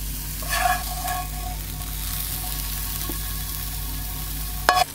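Eggs frying in a pan for a wrap, a steady soft sizzle throughout with a few light clinks of a utensil, close by and fairly quiet.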